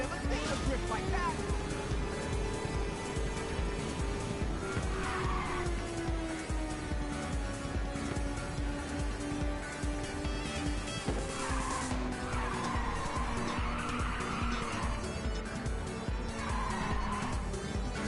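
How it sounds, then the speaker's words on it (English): Car drifting through a corner in the PSP racing game Ridge Racer 2, with a sustained, loud tire squeal sliding in pitch over a steady engine roar and game soundtrack. "I've never seen a drift like that."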